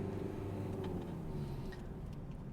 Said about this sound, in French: On accélère encore. Et on met la 3.